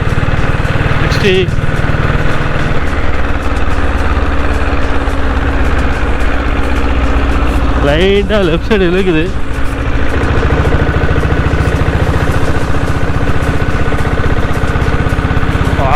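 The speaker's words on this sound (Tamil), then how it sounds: "இன்ஜின் மாட்டி கொஞ்சம் நான் ஓடிட்டுருக்கோம்." A restored diesel Bullet motorcycle engine idles in a steady low-pitched run throughout, with someone talking over it in places.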